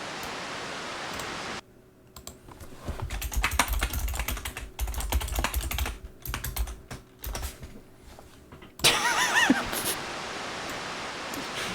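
Rapid clattering keystrokes on a computer keyboard, close and fairly loud, in dense bursts with brief pauses, framed by a steady hiss before and after; no one speaks.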